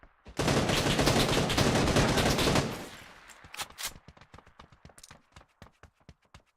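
Concentrated video game gunfire in PUBG: a dense, loud burst of sustained shooting for a few seconds, then separate sharp single shots cracking out at irregular intervals.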